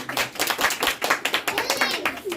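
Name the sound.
audience applause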